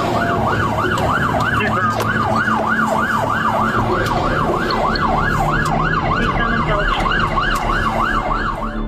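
Loud wailing police siren sweeping steadily up and down in rapid cycles throughout, blaring continuously during a high-speed pursuit of a stolen forklift, with road and engine rumble underneath.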